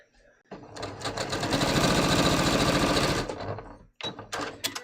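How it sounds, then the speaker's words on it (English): A sewing machine basting a shoulder seam on a bias-cut top, starting with a short burst and then running in a fast, even stitching rattle for about three seconds before stopping, followed by brief handling clicks. "let's baste this shoulder seam"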